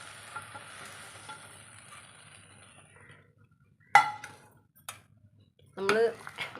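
Okra sautéing in a pan for an Onam okra sambar gives a soft, steady sizzle for a few seconds, then sharp spoon knocks and clatters against the pan follow in separate bursts.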